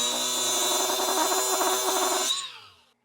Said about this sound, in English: I'm just going to begin shaping it with this die grinder using this cylindrical piece